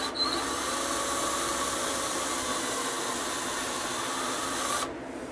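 A Black and Decker power drill bores a hole into a dresser drawer, a steady, close, buzzing whine that holds for about five seconds before cutting off.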